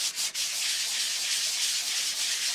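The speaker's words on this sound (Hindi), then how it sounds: "सैंड पेपर से बफ कर रहे हैं" Sandpaper scrapes briskly and continuously against car body filler on a Toyota Fortuner, a harsh, hissy rubbing close by with no voices.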